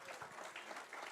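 Congregation applauding the Lord during a church sermon, a steady wash of clapping from many hands held at an even level throughout, fairly quiet and distant, with no talk over it.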